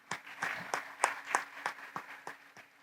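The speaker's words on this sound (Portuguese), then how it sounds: "levante uma salva de palmas ao Mário" Audience applause for a book editor at a talk on sports clubs and Olympic athletes, heard as sparse, distinct claps spaced through a few seconds, fairly faint with a steady low hum underneath.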